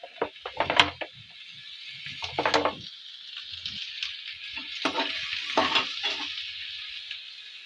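Onion and asafoetida fry in hot oil, giving a continuous crackling sizzle, with louder bursts of stirring and scraping in the pan at several points and no voices.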